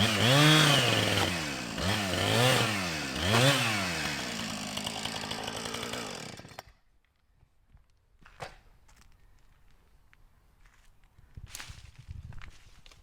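A Stihl MSA 220C battery chainsaw revs up and down in several rising and falling bursts, then cuts off, followed by quieter handling clatter and a few sharp knocks.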